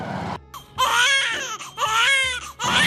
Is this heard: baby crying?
yes